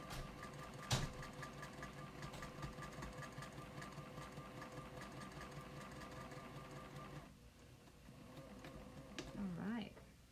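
Sewing machine back stitching and then running through a quilt block seam, a steady mechanical whir that is faint and continuous, ending in a short squeak-like flourish with a voice audible under it.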